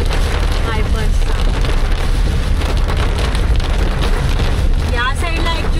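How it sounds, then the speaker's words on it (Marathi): Heavy monsoon rain drums hard and continuously on a moving car, a dense loud roar that fills the cabin, while a voice talks over it. "पाऊस बघा किती जोरदार आहे, जोरदार पाऊस आहे."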